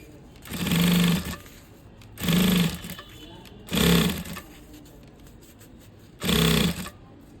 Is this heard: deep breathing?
no